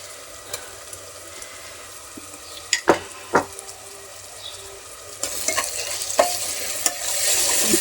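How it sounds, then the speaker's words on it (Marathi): Ginger garlic paste sautéing in hot oil for rajma, a low sizzle with a few sharp clatters of a spoon stirring in the pan, the frying growing louder and brighter toward the end. "आलं लसूण पेस्ट घातल्यानंतर 1-2 मिनिटं छान परतून घ्या।"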